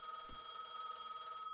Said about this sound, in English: Stop ringing. That's annoying.